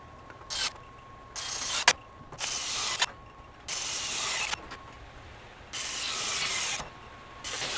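A ratchet tightens bolts in bursts of rapid clicking, several short runs separated by pauses, close and fairly loud.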